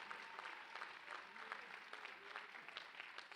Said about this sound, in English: Please join me in yet again another round of applause for Cadet England and all the other students